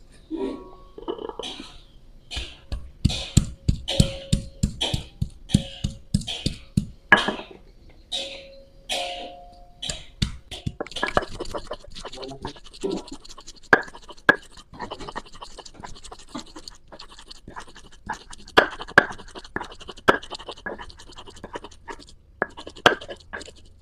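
Spice paste being ground for a squid dish, heard as a run of sharp rhythmic scraping and knocking strokes up close, loud at first and then quicker and denser, with a short voice breaking in.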